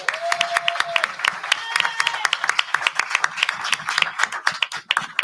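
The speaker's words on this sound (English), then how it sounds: "Let's give them a round of applause," Audience applause for council candidates at a Ward 7 candidate forum and straw poll, a steady burst of many hands clapping close by for about five seconds, with a voice speaking briefly over it.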